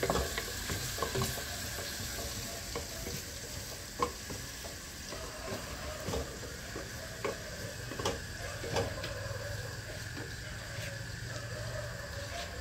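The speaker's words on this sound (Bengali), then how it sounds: "এটা কিন্তু মাছের ডালটা আমি কষাচ্ছি" Lentil dal with fish head is sautéed in a pan, a spoon clinking and scraping in an irregular rhythm over a continuous low sizzle, quiet and close with no speech.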